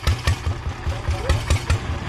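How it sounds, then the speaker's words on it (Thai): A large farm tractor's engine idles with a steady, regular chugging pulse, loud and close, about four beats per second. "โอ้โชคดีที่มีรถไถใหญ่นะ ตึงมากนะ"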